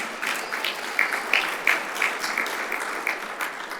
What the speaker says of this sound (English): Go ahead, you clap for him.